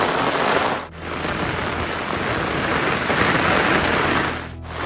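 Heavy rain pours over a Konkan rice farm, a loud dense wash of noise with a brief dip in intensity early on.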